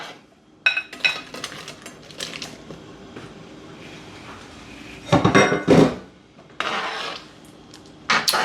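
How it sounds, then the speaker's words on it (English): Potatoes dropping into a pot of boiling broth make scattered clunks and knocks against the metal, with a dense cluster of splashy thuds midway through and a few sharper knocks toward the end. "we've got the broth up to a boil. So, potatoes go in."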